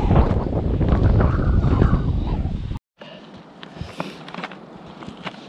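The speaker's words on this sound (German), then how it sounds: "Es ist immer noch sehr windig." Strong wind on a Mallorca mountain trail buffets the microphone with a loud, rumbling roar that cuts out briefly, then returns as a softer gusting hiss.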